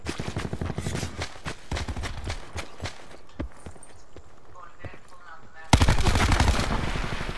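Gunfire in Call of Duty Black Ops 4 Prop Hunt mode, with bursts of sharp automatic shots close by, a quieter spell of scattered single shots, then a sudden loud heavy burst near the end, with a voice talking over it.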